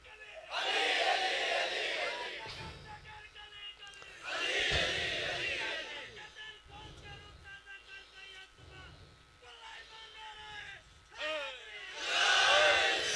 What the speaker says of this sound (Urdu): مجھے دکھا نعرہ کیسے لگتا ہے